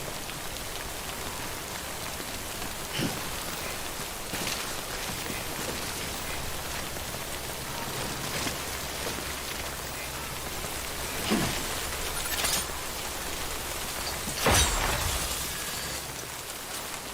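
Timefall rain pours steadily in a video game, a soft continuous hiss of drops on surfaces with a few louder splashes or knocks scattered through, no voices present.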